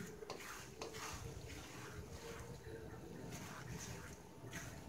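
Sambal trasi with basil and tomato stir-frying in a pan, a steady soft sizzle throughout with occasional scraping and clinks of a utensil, fairly quiet and continuous.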